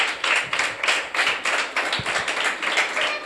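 A group claps in unison during a Telugu student gathering, with steady rhythmic hand strikes filling the short stretch, fairly close and moderately loud, with no talk over it.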